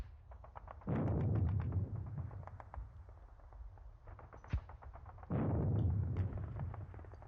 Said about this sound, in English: It's only 50mm mortar, so it's not very powerful.